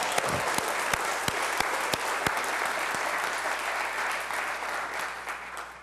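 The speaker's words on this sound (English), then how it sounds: "I'll give them a nice warm round of applause" A warm round of applause at a city's State of the City address fills the room, dense and steady throughout, with a few sharper individual claps standing out near the start.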